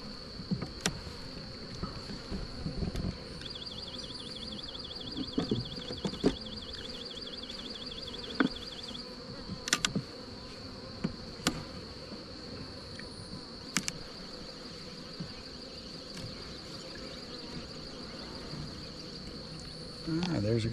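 Honey bees hum steadily at an open hive during an inspection, a constant close buzzing drone with sharp knocks and frame clatter scattered throughout and a beekeeper talking quietly at times.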